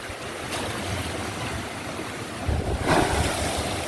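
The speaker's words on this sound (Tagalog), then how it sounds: "Ayun na, ang alon oh." Large sea waves during typhoon Uwan rolling in near a breakwater: a steady roaring wash that swells into a louder surge toward the end, with no voices.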